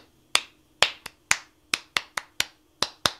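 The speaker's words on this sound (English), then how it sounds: "the football clapping pattern" Ten sharp, dry hand claps ring out in a syncopated football-style rhythm during a music warm-up session, each crisp and close with a short decay, spaced unevenly across a quiet room with no voices.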